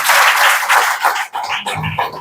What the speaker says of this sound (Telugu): మన ఎస్టర్ పాస్టర్ గారికి మరోసారి గట్టిగా చప్పట్లు కొట్టుకోవాలని